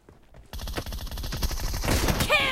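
Gunfire in a mobile shooter match, rapid overlapping shots from several weapons that start abruptly after a quiet half-second and build into a dense, loud burst, ending with a ringing metallic sweep.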